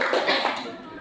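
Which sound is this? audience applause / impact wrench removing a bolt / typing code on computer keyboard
audience applause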